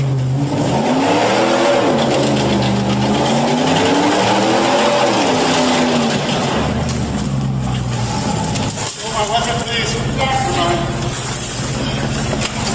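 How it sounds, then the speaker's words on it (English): A stuck car's engine revs hard while its tires spin and scrape the pavement, giving a loud, continuous wavering whine with rising and falling pitch, and radio-like voices briefly come through near the end. "Despite being stuck, the engine kept revving, and the spinning tires created thick smoke as they scraped the pavement"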